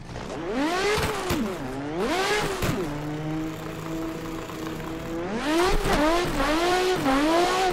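A Nissan S15 drift car on a drift track revs hard in repeated surging bursts, its engine note climbing and falling, holding a steadier drone in the middle, loud and close with no talking.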